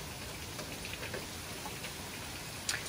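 Rain falls as a faint, even hiss with scattered soft drop ticks and one sharper tap near the end.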